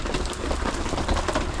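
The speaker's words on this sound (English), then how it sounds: "Now it's pouring rain outside." Heavy rain pours steadily outside a Ford Transit camper van, a dense continuous hiss and patter that stays close and loud throughout with no talking.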